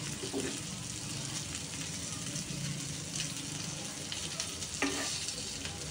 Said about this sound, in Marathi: तर आज मशरूम फ्राय करूया